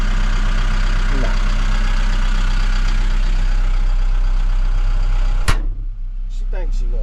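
The engine of an expensive tracked machine idles with a steady, loud low drone that runs throughout, with a sharp knock partway and people talking over it.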